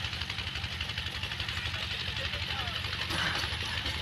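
A tractor engine idles steadily on a farm before ploughing, a low throbbing rumble close by with voices talking over it throughout.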